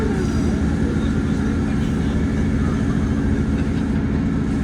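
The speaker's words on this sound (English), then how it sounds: "And we are now arriving into Looe." A train pulling into Looe station in Cornwall, a steady loud low rumble of wheels and carriage noise running throughout with no voices.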